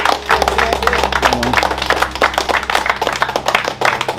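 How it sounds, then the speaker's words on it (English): A crowd claps and applauds a donation at a community gathering in Trench Town, Kingston, with dense, continuous clapping close by throughout. "So we give Overcomers a round of applause for the donation."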